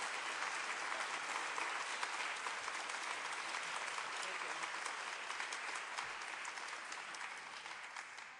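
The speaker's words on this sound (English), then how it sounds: "I think we need to give a round of applause to Deborah" An audience at a teacher education talk gives a steady round of applause for the speaker, dense even clapping that holds at moderate, slightly distant level before tapering near the end.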